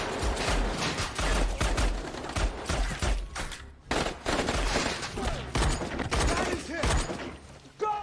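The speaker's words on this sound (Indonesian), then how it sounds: "Naasnya lagi, White yang berusaha menolong Danny juga ikut tewas tertembak." Gunfire erupts in an action film scene, dense bursts of shots and rattling mechanical clatter filling the whole stretch, loud and continuous apart from a brief lull midway.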